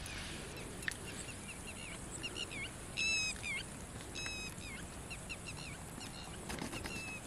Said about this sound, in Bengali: এই পাখিগুলো এরকম ডাকে রোজ